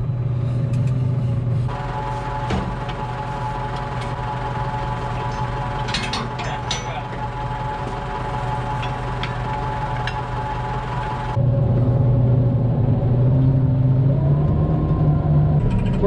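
An old blower driving fresh air up into a farm silo on a heifer farm, running as a steady, loud mechanical drone with faint ticks and rattles, its tone shifting partway through, with no voices.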